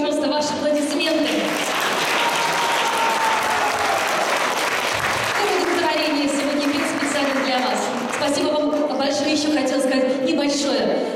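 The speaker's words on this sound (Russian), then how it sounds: "пожалуйста, ваши аплодисменты" Audience at a Sunday choir program in Yekaterinburg applauds after a song, sustained loud clapping with voices speaking over it throughout.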